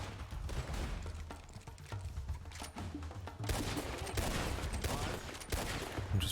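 Sustained video game gunfire crackles in dense, rapid volleys of overlapping shots that grow heavier midway, steady and fairly close.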